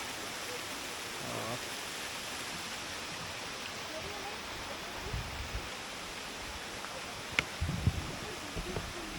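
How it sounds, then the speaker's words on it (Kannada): A waterfall near Ujire with reduced flow gives a steady, even rush of falling water, with a few faint voices and brief knocks over it. "ಫಾಲ್ಸ್ ಅಲ್ಲಿದೆ, ಫಾಲ್ಸು."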